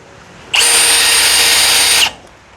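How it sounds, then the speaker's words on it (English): A power drill run in one steady burst of about a second and a half, a bright high whine starting and stopping abruptly, close and loud against a quiet background. "because I've got my drill doing all the work"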